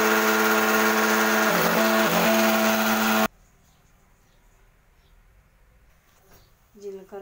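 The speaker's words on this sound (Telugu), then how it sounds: "వేసుకొని మిక్సీ పట్టేసుకోవాలి." A mixer grinder whirs loudly as it grinds cumin seeds for lemon pickle, running steadily with a couple of brief dips before cutting off abruptly, followed by quiet clatter and a short voice.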